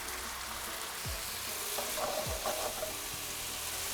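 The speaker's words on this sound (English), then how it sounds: "So I'm starting with the garbanzo beans and the olive oil. Then I'm gonna add some garlic." Garbanzo beans fry in olive oil with garlic and paprika, making a steady, close sizzle with a couple of soft scraping stirs against the pan.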